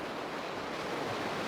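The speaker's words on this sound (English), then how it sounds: "The waves are so big." Big ocean surf washes in a continuous broadband roar, steady and fairly loud with a windy hiss, no voices present.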